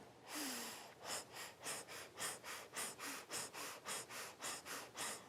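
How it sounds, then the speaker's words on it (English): Rapid, rhythmic forceful exhales through the nose during a Kundalini breath of fire practice, about two pumping breaths per second, close and steady with no talking. "Keep up with that breath of fire, pumping the navel"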